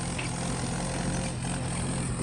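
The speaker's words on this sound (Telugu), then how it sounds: "ఇక్కడ నేను ఈ ట్రాక్టర్లో నేను వెళ్తున్నాను" A grain-hauling tractor engine runs steadily at close range during the ride, giving a continuous low droning rumble with no speech over it.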